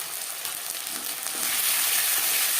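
Ginger paste hits hot oil already fragrant with panch phoron and bay leaf for a parshe fish curry, giving a steady broadband sizzle that swells louder halfway through and holds with no voices.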